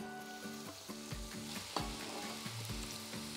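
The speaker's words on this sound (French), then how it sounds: "Ici, nous allons mouiller à la bière brune." Dark beer poured into a Staub cast-iron pot holding rabbit pieces and lardons for a Flemish-style carbonade sets off a close, steady sizzle and frying hiss with a few soft stirring knocks, and no talking.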